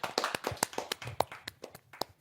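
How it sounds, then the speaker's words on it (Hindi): Sparse, distinct hand claps from a small audience welcoming a poet at a Hindi kavi sammelan, around a dozen sharp claps in an uneven rhythm, fairly quiet and close. "तो जोरदार तालियों से स्वागत है"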